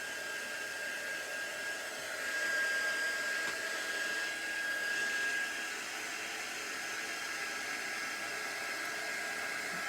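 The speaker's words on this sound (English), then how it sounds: "my heat tool's nice and warm, so this should emboss quite quickly" A heat tool blows hot air to melt embossing powder on a card, a steady close whooshing hiss with a faint whine that runs unbroken for about ten seconds.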